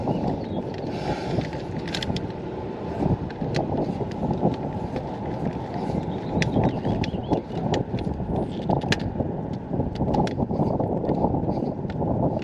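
Steady wind roars and buffets outdoors, a dense continuous rush with low rumble and occasional gusty bumps, no voices.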